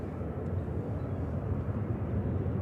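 A Jet2 Boeing 737-800 touching down on runway 05R at Manchester Airport, heard as a continuous low, broad engine rumble at a distance, steady throughout with no voices.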